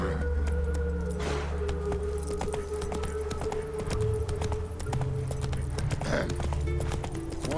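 Horse hooves clip-clop at a steady trotting rhythm in The Witcher 3 video game, close and continuous under game ambience, with a brief snort or whinny-like sound.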